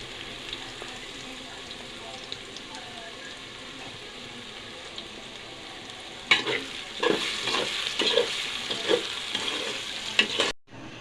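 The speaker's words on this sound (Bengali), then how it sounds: "আমরা প্রয়োজনীয় পেস্ট তেলে ভেজে নিচ্ছি" Spice paste with onion fries in hot oil for a goat head and chana dal curry, a steady close sizzle that turns busier and louder midway as the paste is stirred, with scraping strokes in the pan.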